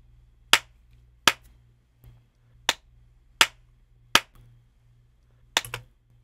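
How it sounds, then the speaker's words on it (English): Single sharp hand claps ring out in a room to train a reverb plugin, about seven crisp, loud claps spaced roughly a second apart over a low steady hum, each followed by a brief room tail. "I clap 3 times, sometimes 6, sometimes 9, sometimes 12, and I will use those claps to train the plugin"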